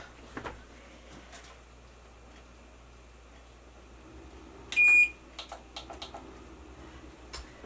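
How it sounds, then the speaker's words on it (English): A kitchen timer beeps once in a short burst while cornbread bakes in a tiny house kitchen, surrounded by faint clicks and soft handling noises in an otherwise quiet room. "timer just went off again"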